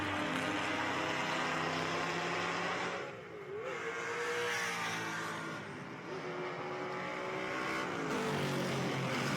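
Vintage race cars, Shelby Cobra 289s and a Ford Mustang, at the Rolex Monterey Motorsports Reunion, engines roaring past as they accelerate and shift, the sound swelling, dipping and rising again over several seconds.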